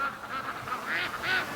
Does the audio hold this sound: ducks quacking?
yes